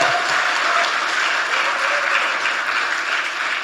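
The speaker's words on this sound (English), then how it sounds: "Let's give a big applause for all of them." Steady, dense applause from a large summit audience, filling the whole stretch at an even, loud level with no pauses.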